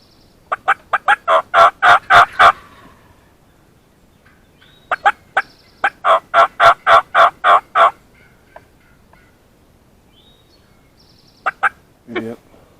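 A wild turkey gobbler in Ohio public woodland sounds off in loud, rapid gobbling bursts, two long rattling series separated by quiet, then a few short calls and a brief low sound near the end.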